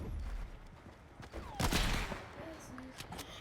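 A yeeet shotgun fires in a video game: a loud burst near the middle with scattered sharp cracks around it over quiet game background noise.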